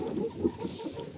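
Soft, irregular clucking from chickens close by, a low murmuring flock sound without any talking.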